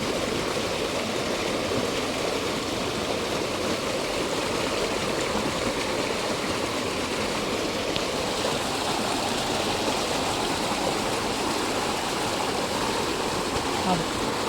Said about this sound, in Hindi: ये हो गया समरसेबल चालू, देख सकते हैं।